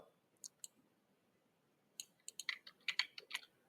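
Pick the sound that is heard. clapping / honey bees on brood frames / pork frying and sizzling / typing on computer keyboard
typing on computer keyboard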